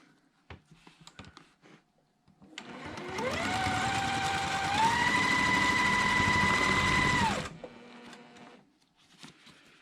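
A sewing machine stitches a quilt block seam in one sustained run of several seconds, its motor whirring steadily and rising slightly in pitch, close by, with a few soft handling clicks before and after.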